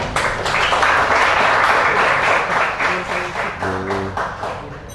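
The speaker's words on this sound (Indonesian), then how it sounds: "Kita tepuk tangan yang bersama-sama teman-teman." Audience at a discussion-show event breaks into steady, full applause, a dense wash of many hands clapping throughout, fading slightly toward the end with a faint voice underneath.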